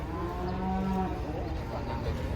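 Cattle moo loudly at a busy livestock market where buyers gather to look for cows, with a long low call near the start over constant crowd and yard noise.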